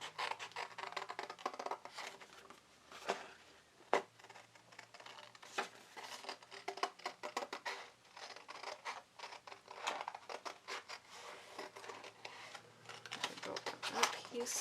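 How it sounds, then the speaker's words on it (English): Scissors cut a paper frame out of a journal cover, a long run of quiet, close snips and crisp paper rustles in an uneven rhythm, with occasional sharper clicks. "you're just going to cut this frame out"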